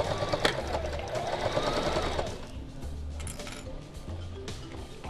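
A Singer sewing machine stitches appliqué with backstitching, a steady mechanical whir in several short runs with brief pauses, clinks and clicks in between, fairly close.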